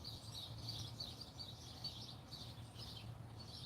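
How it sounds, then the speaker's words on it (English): Birds chirp outdoors in a repeating series of faint high calls over a steady low background hum, with no talking. "Hear the birds chirping?"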